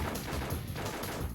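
Boss cannons in the arcade shooter Confidential Mission fire a dense, continuous volley of blasts, loud and close, with no talk over them.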